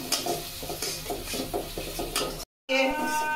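Ground spices with turmeric, Kashmiri chili and cumin powder being sautéed and stirred in a pan, with a steady close sizzle and rhythmic scraping strokes, then a brief cut to silence before the frying resumes.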